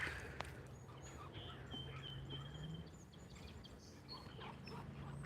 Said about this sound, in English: listen to the birds. Can you hear them?